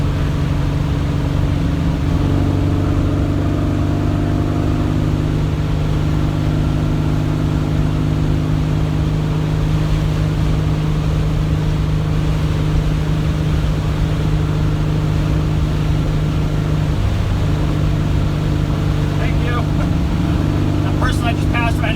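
A Volkswagen car cruises at 60 mph in fourth gear at about 2,700 rpm, a steady, loud engine hum with constant road and cabin noise throughout and no break.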